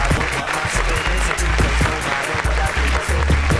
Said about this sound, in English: these claps be driving me crazy